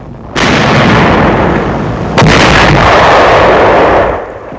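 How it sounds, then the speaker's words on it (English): A World War II tank of the 2nd Armored Division fires its cannon, two heavy booming blasts in close succession, loud and near, each trailing a long rumbling roar. "A tank of the 2nd Armored Division opens fire."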